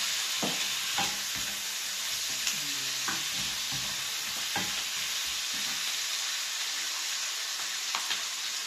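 Tomatoes sizzling in hot oil in a frying pan, a steady bright hiss running throughout with several soft stirring knocks and scrapes scattered across it, close and moderately loud.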